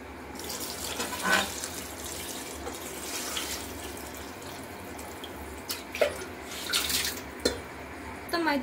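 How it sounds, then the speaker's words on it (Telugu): Water splashes and gurgles into a pot of rice and chicken for biryani in several bursts, with watery clatter and a voice speaking intermittently underneath. "ఇంకైతే వాటర్ పోసుకుందాము"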